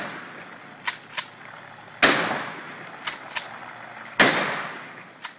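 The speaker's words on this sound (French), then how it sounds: "rien ne vaut une bonne vieille fusillade" Gunshots fired at a swimming pool ring out in two loud, sharp reports with echoing tails, interspersed with several lighter snapping cracks.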